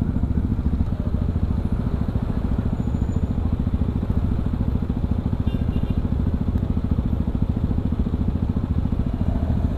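Yamaha WR155R motorcycle engine while riding, a steady close throbbing drone with fast regular pulsing that holds constant throughout without pauses or gear changes.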